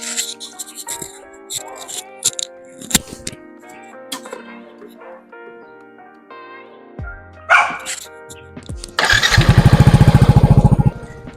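Yamaha NMAX scooter engine fitted with a Sun aftermarket exhaust pipe, starting up after scattered clanks and then settling into a loud, steady, throbbing idle for the last couple of seconds.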